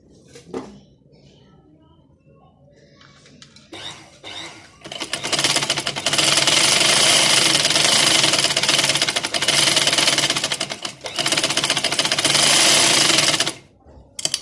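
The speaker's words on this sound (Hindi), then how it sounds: "ट्राउज़र कटिंग थी उसकी हम सिलाई कर रहे हैं" Sewing machine stitching trouser fabric, starting with a few short bursts and then running loud and steady for about eight seconds before stopping.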